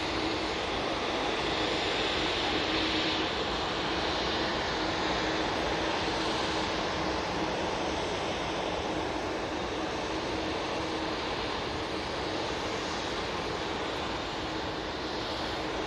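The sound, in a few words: Airbus A330 airliner at Manchester Airport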